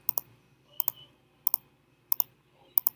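Computer mouse clicking while selecting words in a fill-in-the-blank activity: five quick double-click pairs at an even pace, crisp and close, with no talk.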